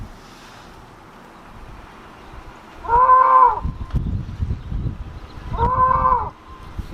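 A Tesla's Boombox plays a goat bleat sound effect through its exterior speaker outdoors, with two loud, drawn-out bleats about three seconds apart over light wind noise.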